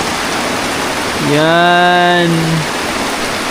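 Evening rain falls steadily on a farm, a constant broad hiss throughout, while a voice briefly rises over it in the middle.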